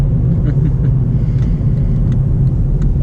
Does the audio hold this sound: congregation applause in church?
no